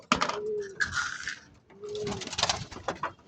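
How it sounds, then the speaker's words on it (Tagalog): Pigeons coo in low, rolling calls in a loft, two distinct bouts separated by a short pause, with light rustling and clicks around them. "So yan yung ating kalapati."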